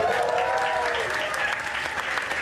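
A New York audience applauds a jazz concert. Dense, steady clapping from the crowd fills the whole moment, with a narrator's voice talking over the start.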